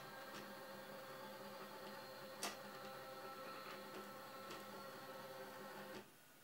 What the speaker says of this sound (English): the printhead can be moved back to the starting position